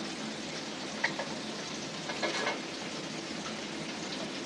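Pigeon meat goes into a pan of well-cooked spice masala and fries with a soft steady sizzle, faint and continuous, with a couple of brief clinks of stirring.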